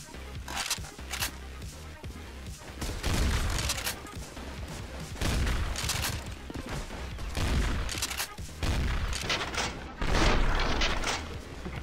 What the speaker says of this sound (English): Shotgun doesn't really shoot the same as it does in Counter-Strike